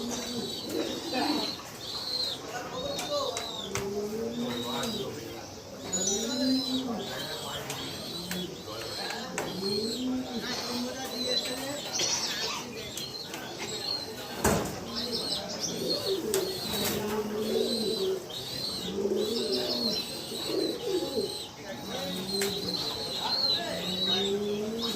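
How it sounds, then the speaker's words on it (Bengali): Pigeons coo in repeated soft, throaty rolls, with occasional chirps and brief wing flaps, fairly quiet and close, continuing steadily throughout. "কবুতরটি দেখুন, আপনাদের খুব ভালো লাগবে"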